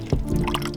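Water gurgles and splashes out of a Volvo Penta D2 55 sailboat engine's raw water system as a stopcock is opened, with close, uneven glugging drips and spatters in a short burst.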